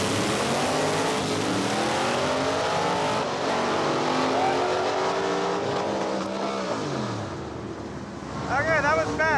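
A 1970 Dodge Super Bee with a larger blower pulley makes a loud drag pass, engine roaring and climbing through the gears at close range, then rising again near the end, while a voice talks over it.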